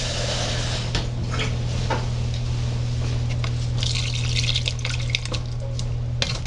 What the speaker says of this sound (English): You can add some more water actually.